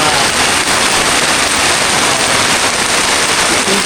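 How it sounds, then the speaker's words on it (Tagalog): Heavy rain pours off a DIY PVC gutter in a steady, loud, dense wash of water that does not let up. "Maligot ang ulan"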